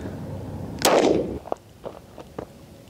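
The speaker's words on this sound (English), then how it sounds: "You just hold the button and it keeps shooting? You just keep shooting." One loud, close AR-15 rifle shot rings out, followed by several quieter sharp clicks or knocks, with no talking.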